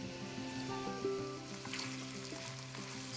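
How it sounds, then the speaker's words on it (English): Chopped red onions frying in hot cooking oil in a big pan over medium flame, a soft steady sizzle with faint clinks and stirring sounds, no talk. "When the oil becomes hot, you can add 2 chopped red onions."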